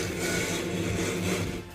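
A knife blade is drawn through an AccuSharp pull-through carbide sharpener. It gives a steady, close rasping scrape that lasts almost two seconds with no talking.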